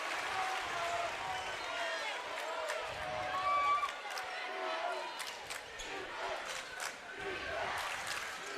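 Loud crowd roars and cheers through a boys' basketball tournament game in the final minute of a tied contest, with sneaker squeaks and a commentator's voice layered over the sustained noise.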